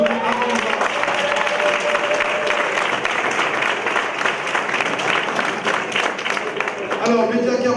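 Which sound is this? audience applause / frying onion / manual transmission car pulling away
audience applause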